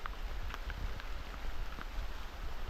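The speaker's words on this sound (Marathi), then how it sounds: "पाऊस चालू आहे" Steady rain patters at night throughout, a dense wash of drops with a few louder taps standing out, no voices.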